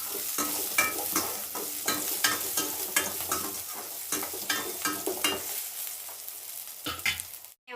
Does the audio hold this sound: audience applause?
no